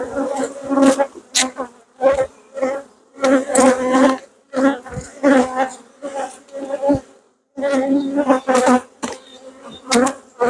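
Honey bees buzz loudly and up close in repeated surging bursts while they are moved into a new hive box, the drone rising and falling in uneven pulses.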